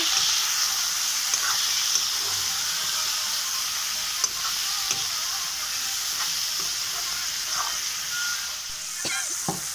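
Chicken seasoned with salt and turmeric sizzles in a frying pan while it is stirred, giving a steady, close frying hiss with occasional scraping knocks.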